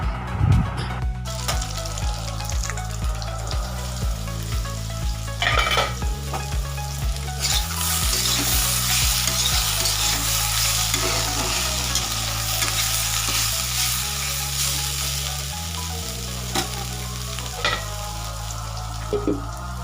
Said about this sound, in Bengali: ওই তেলের মধ্যেই আমি আলুগুলোকে দিয়ে দিলাম আলুগুলোকেও কিন্তু খুব বেশি কড়া করে ভাজবো না